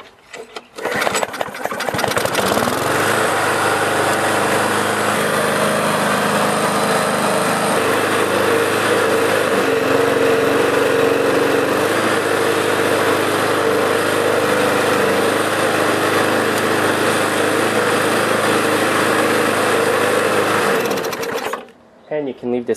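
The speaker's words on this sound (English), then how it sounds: "I'm going to start up the lawnmower just to show you that it revs a little higher." A Briggs and Stratton lawnmower engine starts after about two seconds and runs steadily at a raised RPM. It makes a loud, close, buzzing drone for roughly twenty seconds, then cuts off abruptly.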